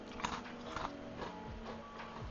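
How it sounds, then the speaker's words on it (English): Someone munches food close up, with soft crunchy bites and wet chewing in an irregular rhythm, steady and moderately quiet, with no talking over it. "Don't mind me just munching."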